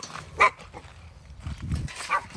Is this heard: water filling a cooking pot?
no